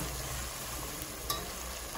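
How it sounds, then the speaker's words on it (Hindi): Ginger garlic paste fries in a pot for masoor pulao, giving a quiet, steady sizzle with a single brief clink partway through. "कच्चापन का, थोड़ा हल्का भून लेंगे, उससे हट जाएगा।"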